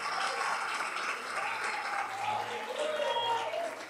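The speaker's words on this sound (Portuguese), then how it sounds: "Se você acredita, você pode aplaudir ao Eterno nessa noite." Congregation clapping together in a church service, a dense, steady wash of applause lasting throughout, fairly loud and continuous.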